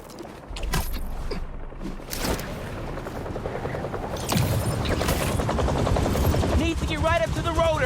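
Helicopter rotor blades thump in Marvel's Spider-Man 2, a pulsing mechanical drone that grows louder and nearer toward the end, mixed with other game sounds and occasional voices.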